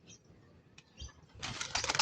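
Pigeon wings flap in a quick burst as the birds take off, close by and fairly faint, growing louder toward the end.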